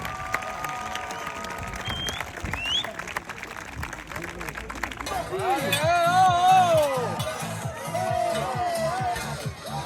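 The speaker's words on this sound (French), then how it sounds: "On l'applaudit bien fort, plus fort que ça," A crowd at a rodeo demonstration on a Manade Bilhau ranch day claps in a rough, uneven patter, joined midway by a loud amplified voice and shouts that rise over the clapping.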